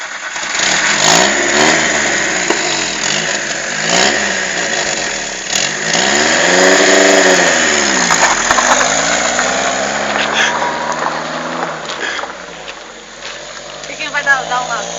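A Chevrolet Chevette engine revs and accelerates in a loud, continuous drone with rising and falling pitch sweeps, while people shout and talk over it nearby.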